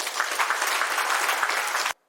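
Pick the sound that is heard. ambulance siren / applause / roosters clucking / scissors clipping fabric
applause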